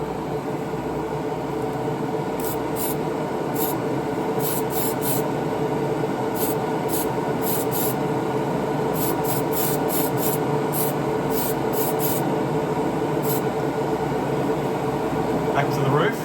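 A rattle can sprays primer onto a scale model in a steady close hiss that runs the whole time, with faint clicks over it.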